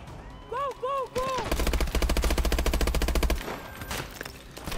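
Rapid automatic gunfire in the video game Call of Duty Advanced Warfare, a loud sustained burst of closely spaced shots, with a few electronic tones and a voice just before.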